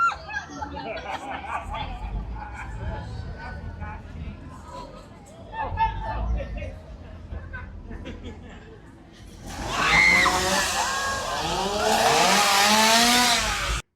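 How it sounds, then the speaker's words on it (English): A chainsaw revs loudly at close range at Halloween Horror Nights in Orlando, a harsh rising engine roar that bursts in after chatter and crowd babble and holds for several seconds. "they just revved the chainsaw next to them"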